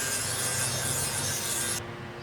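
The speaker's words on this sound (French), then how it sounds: "Je détourne la lame et la ponce grossièrement" A Damascus steel Japanese gyuto knife blade being roughly sanded, a loud continuous abrasive rubbing that holds steady and then thins out near the end.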